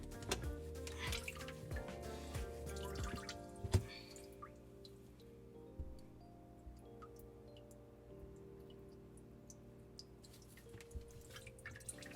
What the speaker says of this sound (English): this is the clean water that's coming out the sink